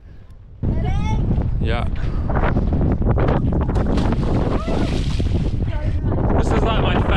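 Strong wind buffets the microphone in a small-town setting, a loud continuous roar with a voice briefly speaking over it.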